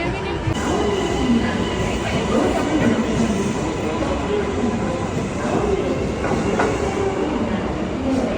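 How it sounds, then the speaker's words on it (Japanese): A train pulling into a station platform in Japan, its steady rumbling rail and wheel noise filling the whole stretch at close range, with faint station murmur and no clear speech. "1番線到着の列車は"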